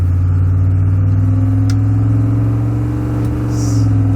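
Car engine revving hard under acceleration while an automatic transmission with a suspected failure shifts up through the gears, a loud steady drone with a slight dip at each shift.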